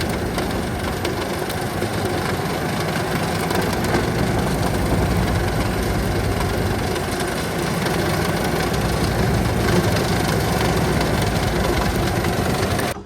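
A wood chipper runs loud and steady as logs go through it, a constant heavy engine roar with a grinding texture that holds at the same level throughout and barely changes.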